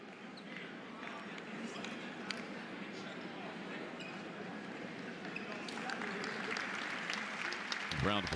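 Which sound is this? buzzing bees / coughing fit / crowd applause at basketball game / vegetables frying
crowd applause at basketball game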